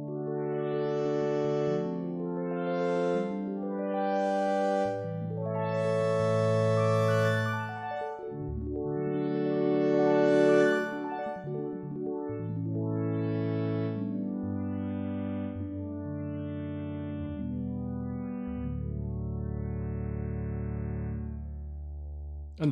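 Additive synthesis tones played as sustained chords with a sustain pedal, bathed in long Altiverb reverb; rich layered harmonics swell and overlap continuously for over twenty seconds, loud and alone without talk.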